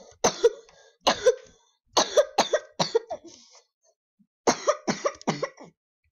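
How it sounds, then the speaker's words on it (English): Repeated harsh coughs come in clusters of two or three, close and fairly loud, separated by short pauses. "Sorry, I'm coughing."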